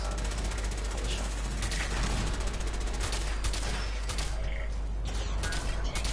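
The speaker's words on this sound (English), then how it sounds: "I'm wasting good ammo here. Let me just have a shot." Gunfire in the video game Fallout 4, a loud, dense run of rapid shots with mechanical clanks and rattles, continuous and close throughout, with no talking.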